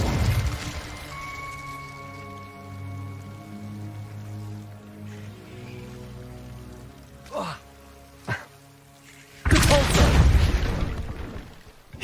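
A fire spell cast in the game Hogwarts Legacy bursts out as a loud, broad whoosh late on, after two short swishing effects, over a sustained musical bed.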